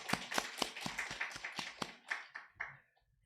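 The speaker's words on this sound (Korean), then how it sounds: "무조건 박수부터 한번 쳐줍시다." About a dozen sharp hand claps from a church congregation, close and fairly quick, a little uneven, fading out at the end with a short tail.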